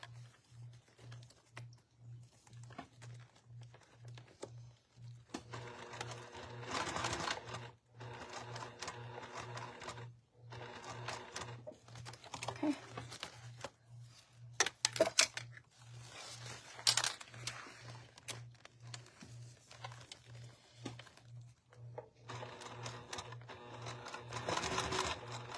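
A sewing machine stitches through clear vinyl in faint, even runs of quick rhythmic ticking, broken by short pauses and a few light handling clicks.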